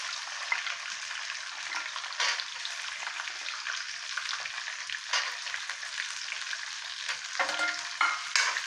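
Small peeled shallots fry in hot oil with dried red chillies and curry leaves for tamarind rice. A continuous bright sizzle and crackle carries throughout, broken by occasional scraping stirs and no talk.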